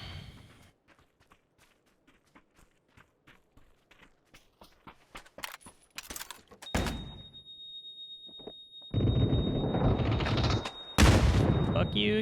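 Bursts of MG3 machine gun fire in a survival video game start as distant clustered shots, then turn into loud, dense roaring bursts near the end. Faint game sounds and pauses come between the bursts.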